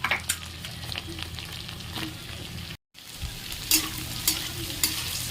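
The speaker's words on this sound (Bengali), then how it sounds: "আলু হালকা ভাজা হয়ে গেলে এতে অ্যাড করে দেবো কচু।" Potatoes frying in oil in a wok, with taro added, after a tempering of five-spice seeds, bay leaf and a dried chilli; a steady close sizzle with stirring scrapes and brief pops, broken by a short gap of silence.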